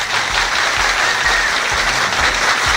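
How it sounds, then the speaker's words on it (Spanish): An audience applauds two celebrated baseball managers at a public event, a steady, dense wash of clapping held at an even, loud level throughout, with no voices over it. "Un aplauso para Joe Torre y para Tony La Russa."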